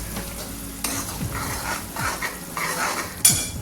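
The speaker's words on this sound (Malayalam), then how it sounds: "ഇതുപോലെ ഒന്ന് ഇളക്കി കൊടുക്കാം" A spoon stirs ground ginger and shallots frying for ginger curry, with steady sizzle, scraping strokes against the pan and a sharper clank near the end, close and with no talk.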